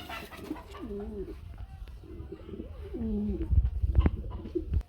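Several pigeons coo in repeated soft, warbling phrases at a busy pigeon market, close by, over a low background murmur and occasional knocks.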